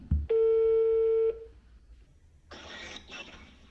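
A steady telephone ringback tone sounds once for about a second during a call, followed by quieter line noise and a burst of broadband hiss near the end, with no speech.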